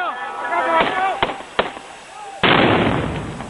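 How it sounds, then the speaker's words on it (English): Three sharp gunshots from close range during a crowded outdoor political rally, then a much louder, sustained blast of a suicide bomb explosion that engulfs the scene, with crowd voices and chanting underneath. "The last bang is that of the suicide bomber, blowing himself up."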